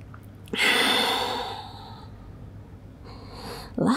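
Heavy breathing during an advanced Pilates mat class, a long loud exhale or sigh followed by a shorter second breath, close and unaccompanied by talk.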